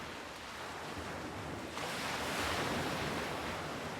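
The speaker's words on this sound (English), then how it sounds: "They did a great job with water effects here" Rolling ocean surf and washing water from a video game fill the scene, a steady broadband rush that swells louder about halfway through, with faint wind noise and no talking.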